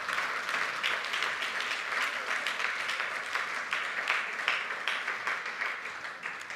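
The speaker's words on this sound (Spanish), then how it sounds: "¿Le podemos dar un aplauso?" A church congregation applauds during a sermon, steady dense clapping from many hands that carries on at an even level for several seconds with no speech over it.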